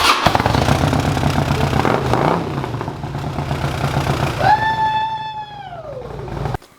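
A motorcycle engine idles and rumbles close by with a low steady drone, then revs once near the end with a rising and falling whine.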